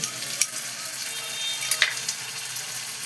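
Ginger-garlic paste hits a pan of golden fried onions in oil while making fish kachori, giving a soft, steady sizzle with a couple of sharp crackles and spoon scrapes.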